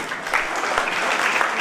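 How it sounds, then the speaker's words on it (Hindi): Audience applause breaks out at a formal gathering marking a youth organisation's foundation day, honouring a woman guest; steady, dense clapping from a crowd fills the whole moment without a voice over it. "उनके सम्मान के लिए एक बार ताली बजाएंगे।"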